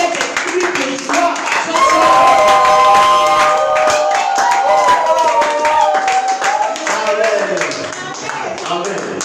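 A church congregation claps and cheers at a lively worship service, the applause dense and sustained. Voices call and sing over the clapping throughout.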